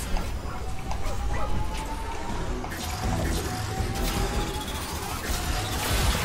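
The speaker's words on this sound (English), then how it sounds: "They're very pointy doggies." Robot dogs in the ReCore game bark and yip amid busy combat noise, with sharp repeated barks over a loud, dense background.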